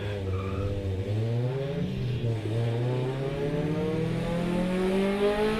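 A Honda VTEC hot hatch race car at Cadwell Park revs hard on track, its engine note climbing and dropping through gear changes in a loud, continuous drone heard from onboard.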